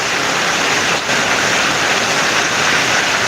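Heavy rain pours steadily in Kerala, a dense, unbroken hiss of falling water that stays loud and even throughout, with no voices.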